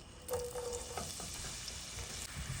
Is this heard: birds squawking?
no